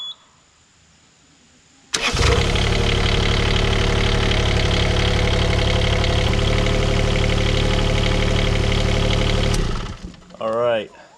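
A Bobcat E20 mini excavator engine cranks and catches, then idles loudly and steadily close by for several seconds before shutting off, with a brief voice after it stops.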